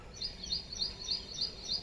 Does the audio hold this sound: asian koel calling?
yes